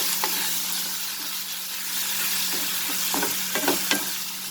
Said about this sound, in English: Now saute this masala over a medium flame